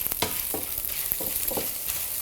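Tofu fries in a pan on lowered heat while cooking for vegan ramen, giving a steady close sizzle broken by several short scraping stirs.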